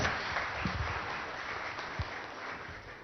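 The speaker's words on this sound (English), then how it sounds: "Let's welcome him, everybody, with a huge round of applause" Audience at a Flipkart fulfillment center launch ceremony applauds to welcome Minister KTR, a steady wash of crowd clapping heard from a distance, fairly faint and even throughout.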